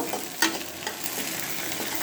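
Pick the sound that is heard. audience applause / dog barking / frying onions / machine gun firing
frying onions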